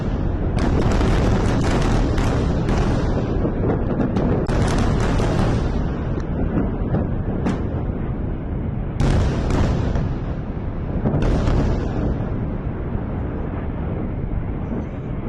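Missile strikes on Israeli air bases in news graphics: heavy rumbling booms and blasts, loud and continuous, with several sharp bursts standing out over a deep roaring background.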